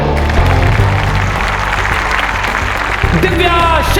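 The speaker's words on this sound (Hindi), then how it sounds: "तो गड़गड़ाती हुई तालियों में सबसे पहले बुलाते हैं मिस रोशनी माखीजा को" Applause at a Miss Bhavani Nagar beauty competition rolls on steadily throughout, mixed under loud, bass-heavy music.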